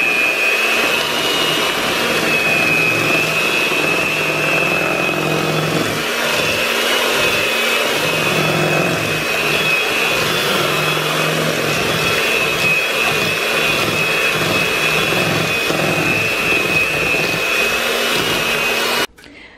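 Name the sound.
electric mixer mixing strawberry cake batter with vanilla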